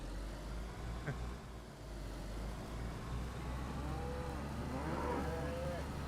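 Cows in the video game DayZ moo in a few drawn-out, wavering calls from some distance, heard over a low steady background rumble.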